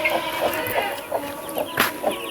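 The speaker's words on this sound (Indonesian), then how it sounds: "ini dia ayamnya." Village chickens cluck in a steady series of short calls, close by and moderately loud, with no voices over them.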